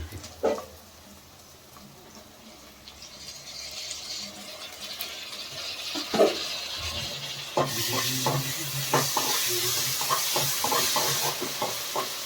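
Quiet frying hiss of onion masala for egg curry that swells louder partway through, with scattered clinks and scrapes of stirring in a pan.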